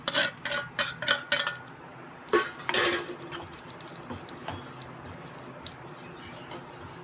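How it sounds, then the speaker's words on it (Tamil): Coconut sautéing in ghee in a pan for susiyam, opening with a quick run of loud scraping strokes of a utensil against the pan, then quieter intermittent stirring over a low background. "நெய் சேர்த்துட்டு நம்ம எடுத்து வச்சுருக்க தேங்காவை அதில் சேர்த்து வதக்கிக்கலாம்"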